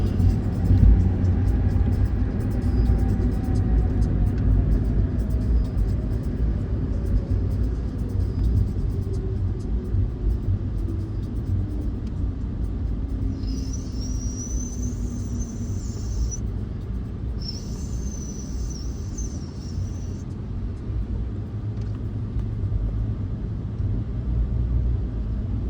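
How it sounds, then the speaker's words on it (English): A lifted diesel Chevy 3500 dually truck rumbles with a deep, steady idle that stays loud and close throughout, while a fading tone sweeps downward and a brief high whine cuts in and out midway. "One of the trucks, the fucking, I guess it's a diesel, and it's like a Chevy 3500"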